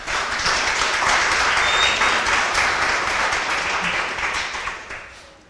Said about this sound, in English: So could you give your round of applause for Matt, please?